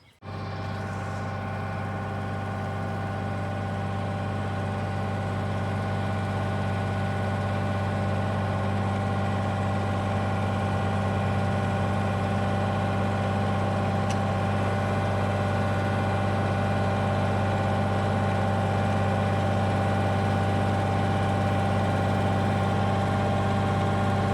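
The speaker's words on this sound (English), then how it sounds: "So let's get on the tractor and pull this thing." A tractor engine idles steadily at close range, a constant low droning rumble with a slight rise in level over the long stretch.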